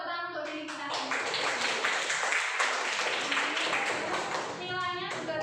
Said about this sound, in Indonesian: Beri tepuk tangan untuk diri kita sendiri